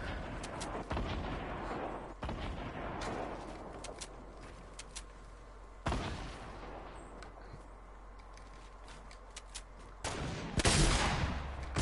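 Video game gunfire from a sniper shot and a hand cannon: a few sharp, loud shots spaced several seconds apart, each followed by a short decay, over a low steady game background.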